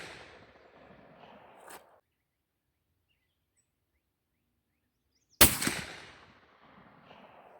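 A single suppressed shot from a .416 Ruger elephant rifle firing a steel-jacketed bullet: one sharp, loud crack that breaks a silence and decays quickly into a low rumble.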